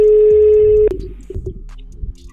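A phone in the video game GTA RP rings with a steady, loud electronic tone for under a second, then cuts off, leaving faint scattered game noises.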